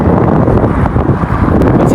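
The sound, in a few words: wind blowing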